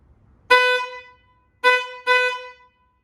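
A 2018 Ford F-150 truck horn gives three short honks: one longer blast, a pause, then two quick toots, loud and close with a bright, buzzy tone in otherwise quiet surroundings.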